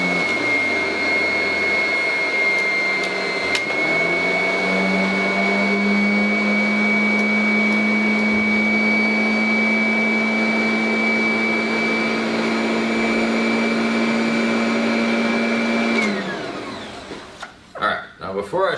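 A Kirby vacuum cleaner runs at a steady high whine with a low motor drone for over ten seconds, then winds down, leaving scattered clatter and handling noises at the end.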